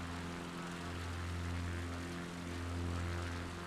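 An XCub propeller plane in flight in a simulator game, giving a steady, even engine drone with a low tonal hum and a broad airy wash. It holds at a constant level throughout with no talking.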